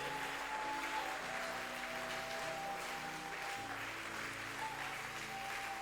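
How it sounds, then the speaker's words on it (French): A church congregation at a Sunday service applauds steadily for several seconds, the dense clapping filling the room over a sustained tonal backdrop that sounds like keyboard music. "Quelqu'un peut-il applaudir pendant quelques secondes"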